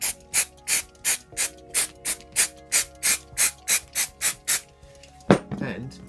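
An aerosol parts cleaner sprays in a dozen short, evenly spaced bursts onto RC buggy differential parts, followed by a brief clatter of handling.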